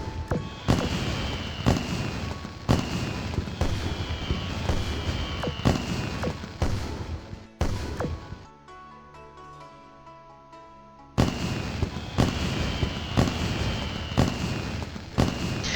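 Fireworks in the Azur Lane video game crack and boom repeatedly in rapid bursts. A quieter gap with a tonal game sound comes partway through, and then the loud popping barrage starts up again.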